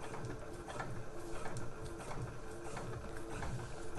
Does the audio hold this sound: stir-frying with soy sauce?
no